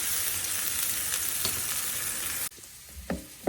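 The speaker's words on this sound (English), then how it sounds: "So this is some sausage meat I'm browning." Hot sausage meat sizzles and fries in a pan, a loud, steady crackle that suddenly drops off to a quieter sizzle, with a few scraping stirs near the end.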